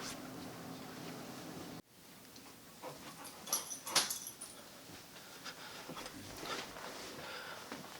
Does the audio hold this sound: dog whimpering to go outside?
yes